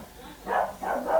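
A dog barks three times in quick succession at moderate distance, with a rough background hum, somewhere around a hiking area in Utah's Needles district.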